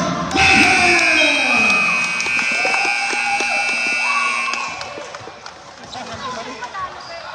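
A long electronic buzzer sounds to end a basketball game between Calgary/PPF and Canadian Auto Repair in an indoor gym. It drones steadily over crowd noise, footsteps and a talking announcer, then fades as the chatter continues.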